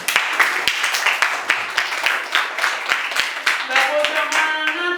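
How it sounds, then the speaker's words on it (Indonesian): Classroom clapping from a group, a steady run of sharp hand claps with children's voices mixing in near the end. "terima kasih, tepuk tangan"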